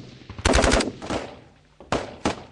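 Machine gun fire in a firefight with the Taliban: loud, near bursts of rapid shots, then a lull and two more sharp bursts, no talk.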